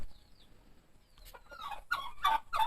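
Chickens clucking on a chicken farm, a few close, lively clucks and calls building in a quick irregular burst after a quiet start with faint chirps.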